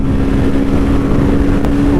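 Close up, a Royal Enfield Guerilla 450 motorcycle holds a steady engine drone at speed, mixed with constant wind rush over the microphone.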